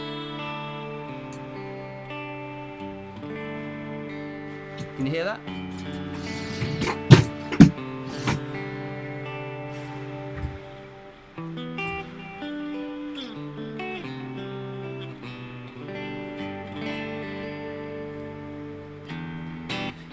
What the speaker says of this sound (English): The Mesa clean sounds like this.